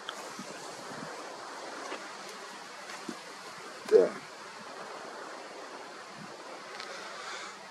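Strong wind roars steadily against the microphone outdoors at night with a constant broad hiss, broken by occasional louder gusts and soft thumps.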